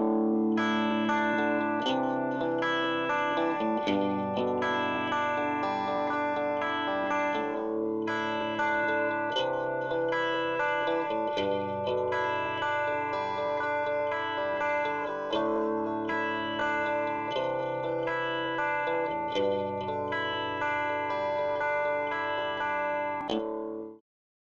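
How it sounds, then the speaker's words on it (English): Comb filtering modulation effect demonstrated in Logic Pro on a sustained music loop, a continuous layered tone with a hollow, shifting colour playing for about twenty-four seconds without talk. "The effect, the resulting tonal change, is referred to as comb filtering."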